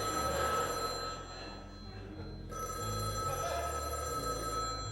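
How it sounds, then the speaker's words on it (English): A telephone bell rings twice, each ring a sustained, bright electronic trill separated by a short gap, heard at moderate distance with a faint background hum and no talking. "He'd come home and the phone would ring twice."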